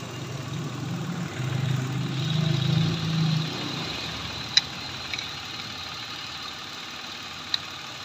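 A 2023 Mitsubishi Mirage G4 engine idles steadily with a low, even hum, briefly louder early on, then settling while a couple of sharp clicks punctuate the background.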